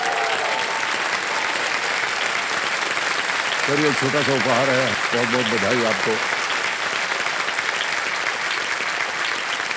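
KBC studio audience applause rings out as steady, dense clapping throughout, loud and close, while a host speaks briefly over it.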